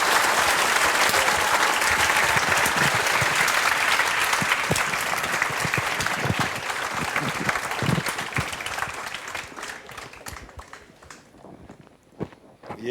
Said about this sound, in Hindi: मोहनलाल बड़ोली जी से जितनी ज्यादा घोषणाएं करवाना चाहते हैं उतनी तेज ताली बजानी है।